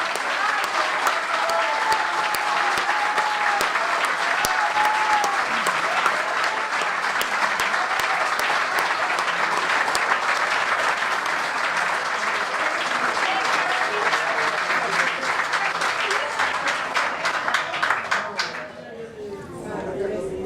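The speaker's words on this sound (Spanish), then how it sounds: "yo pido un nuevo aplauso fuerte para Carolina y para Eduardo." Sustained loud applause from an audience at a televised Argentine political candidate program, dense continuous clapping for about eighteen seconds before it thins and fades out.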